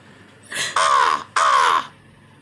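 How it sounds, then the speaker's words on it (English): A crow cawing in a video game, two loud, harsh caws close together, each about half a second long, heard near and alone. "So it's funny because the crow noise is actually the same as Toad from Mario."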